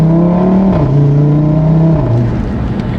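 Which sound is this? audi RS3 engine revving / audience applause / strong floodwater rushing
audi RS3 engine revving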